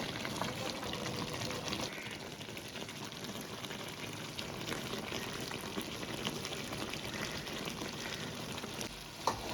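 Mutton curry sizzles steadily in a pan as it is fried, a dense close crackle with faint stirring that continues throughout, no voices.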